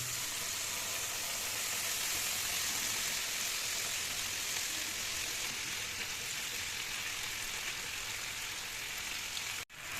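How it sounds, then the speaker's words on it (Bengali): Chicken pieces fry in a pan with a steady, even sizzle and hiss from start to finish, close and unbroken apart from a sudden cut near the end. "এক মিনিট মতো ফুল আছে আমি এটাকে ফ্রাই করে নেবো"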